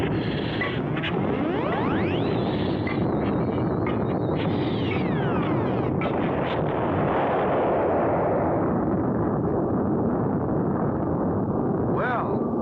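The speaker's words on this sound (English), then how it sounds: "Rocket got off, but will it really fly?" A cartoon rocket launches with a sustained, loud roaring rumble that swells and continues for several seconds, joined by whistling, falling and rising tones, with no speech.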